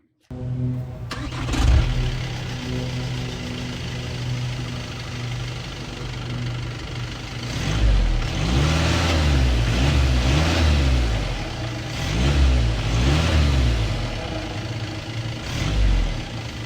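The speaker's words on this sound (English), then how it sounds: "Now we'll be moving on to the exhaust note." An Audi A3 2.0 TDI diesel engine cranks and catches, idles with a steady rumble, then is revved in several loud, deep bursts close by, with no talk over it.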